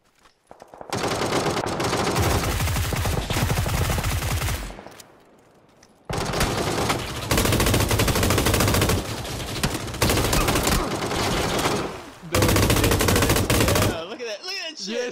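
Loud bursts of automatic gunfire from the PUBG battle royale video game come in long rapid volleys separated by brief pauses.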